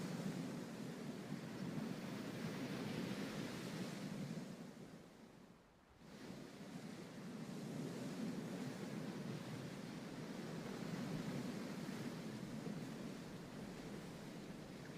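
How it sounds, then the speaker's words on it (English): Sea surf at a wildlife waterhole, a steady low rushing wash of waves that briefly dips and swells again, heard alone at moderate distance with wind-like noise. "Beautiful sound of the sea."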